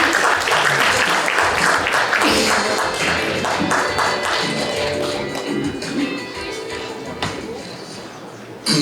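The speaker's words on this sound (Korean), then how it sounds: "따뜻한 박수로 무대 위로 모시도록 하겠습니다." Warm applause from the audience at a Korean national Tuberculosis Prevention Day ceremony fills the hall as a steady, dense patter that carries on throughout, with scattered louder claps and thumps and a faint murmur of voices underneath.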